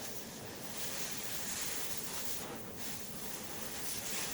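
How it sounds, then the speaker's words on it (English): A cutting torch roars steadily as it melts and blows away a weld bead on a truck frame during a Corvette suspension swap onto a 1950s Chevy truck, a loud continuous hiss up close. "So we're taking our time, just melting, heating up, melting, blowing away that weld bead."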